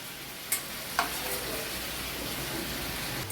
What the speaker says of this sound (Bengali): এবারে দিয়ে দিচ্ছি ভাজা আলুটা